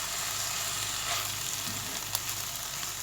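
Fish pieces coated in green chutney of coriander, mint and green chilli sizzle in a pan, a dense steady frying hiss up close with a faint stir or two and no speech.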